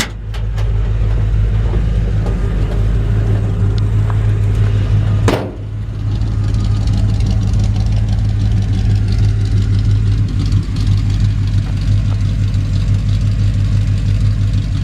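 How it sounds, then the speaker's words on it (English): A 1956 Chevy 3100 truck idling with a deep, steady exhaust rumble, loud and close, with a brief clunk midway through. "Nice sounding exhaust."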